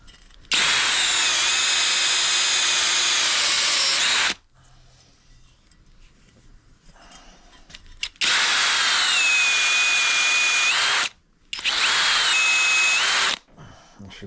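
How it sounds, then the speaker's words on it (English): A power sander runs in three loud bursts, working down the holes of a part on a Suzuki RM dirt bike, with quiet gaps between the passes and no talk. "I'm going to sand this down the holes just to make sure the debris is out of them"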